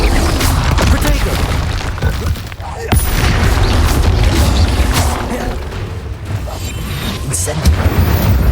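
Spell effects from a Harry Potter video game, a shield spell among them: a continuous loud rumbling barrage of magical booms and crackling bursts with sharp transients, dense throughout, while a voice shouts spell names.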